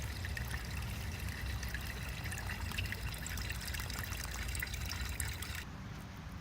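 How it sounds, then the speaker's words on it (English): Creek water trickles steadily out of a concrete culvert exit and drops into a crack in the channel bed, a close, continuous watery dribble with no voices. "It actually falls into a crack right out of the exit of the culvert."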